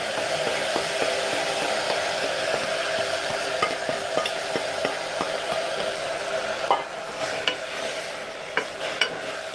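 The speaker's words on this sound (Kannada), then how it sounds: "ಇದಕ್ಕೆ ನಾನಿವಾಗ ಕಾಳು ಇದೆಲ್ಲ ಫ್ರೈಗೆ ಹಾಕ್ಕೊಳ್ತಾ ಇದ್ದೀನಿ." Sprouted legumes stir-fried in oil in a pan, a continuous close sizzle with regular scraping strokes of a spatula and a few sharper knocks toward the end, no voices.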